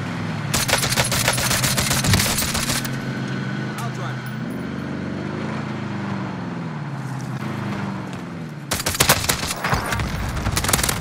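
In the Warzone video game, rapid automatic gunfire rattles in loud bursts at the start and again near the end. Between the bursts a vehicle engine drones, and a voice talks over the game.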